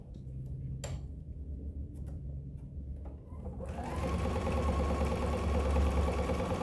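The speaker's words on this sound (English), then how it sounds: "I am just going to sew 1/8 of an inch on that open side" A sewing machine stitches red thread along the open side of a fabric cross-body bag, starting after a quiet stretch of faint clicks and then running as a steady, close mechanical whir.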